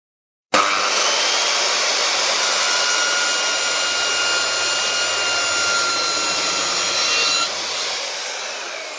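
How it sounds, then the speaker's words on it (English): A corded Bosch GKS 190 circular saw cuts through a 10mm thick MDF board with a loud, steady whine that starts abruptly and holds for about seven seconds, then drops off as the blade spins down. "now I can make the cut on, to start with, a 10mm thick MDF board"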